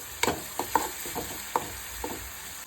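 Green chillies fry in a little oil in a pan for a North Karnataka-style palya, giving a steady hissing sizzle punctuated by several sharp spatula taps and scrapes, close and moderately loud.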